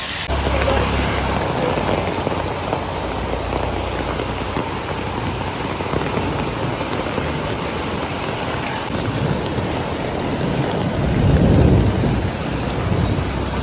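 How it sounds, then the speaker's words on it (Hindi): Heavy rain from a sudden storm in Hanoi, Vietnam pours down continuously in a dense roar, with a low rumble of thunder swelling toward the end. "बहुत ही बारिश हो रही है यहाँ पर, अचानक से तूफान आ गया।"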